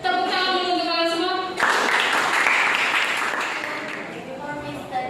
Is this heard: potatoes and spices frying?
no